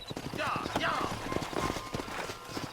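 Horse hooves clop repeatedly at close range while riders dismount in the Western video game Red Dead Redemption, with someone talking loudly over the steady clip-clop.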